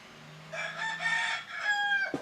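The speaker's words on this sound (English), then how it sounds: "Got a rooster out there." A rooster crows once at a rural old store with a feed room, a clear medium-distance call rising and then trailing off. A faint background hum sits under it and a short knock comes at the end.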